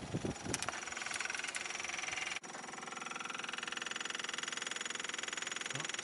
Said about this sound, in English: Fuel pump sounds like it's up to pressure now.